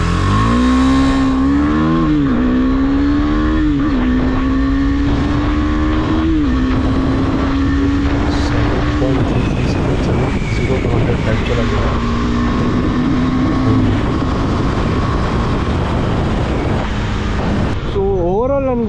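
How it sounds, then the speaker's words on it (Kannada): A KTM Duke 390 BS6 motorcycle accelerates hard from a standstill in a 0-100 speed test, its engine note rising loud and close through several gear shifts, each followed by a fresh climb, before easing off near the end. "ಇವಾಗ ನನ್ನ ಗಾಡಿ 0-100 ಸೆಕೆಂಡಲ್ಲಿ ಕವರ್ ಆಗುತ್ತೆ. So 3, 2, 1 start."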